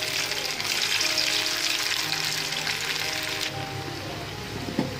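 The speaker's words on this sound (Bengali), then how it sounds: "ডুবো তেলেই ভাজতে হবে" Chicken pieces deep frying in plenty of oil for Chicken 65, a loud bubbling sizzle that eases partway through, with a light clink near the end.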